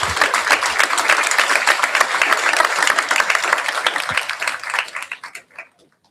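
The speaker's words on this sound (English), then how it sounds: "please join me to applaud our panelists" Audience applause for panelists at a skills summit panel, steady dense clapping from a crowd that carries on for about five seconds before thinning out and stopping.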